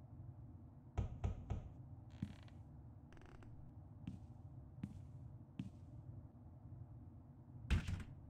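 Knocks on a door in the adventure video game The Longest Journey come as sharp, separate raps in irregular short bursts, followed by a louder final thump, over a quiet low background with no speech.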